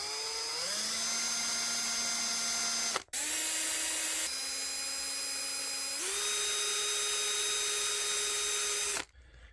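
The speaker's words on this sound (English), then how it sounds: "I'm just going to carefully drill a hole right smack in the middle." A power drill bores a hole into the base of a 40-inch Planet of the Apes Icarus model, a steady high whine in close bursts that shift pitch as the bit bites, with brief pauses between runs.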